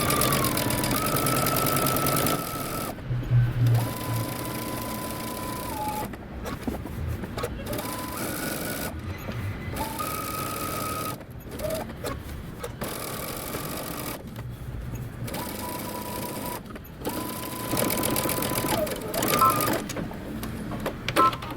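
Sewing machine stitching close to the edge of a pocket with a back stitch, running in bursts of whirring motor hum with short pauses between them, close and steady.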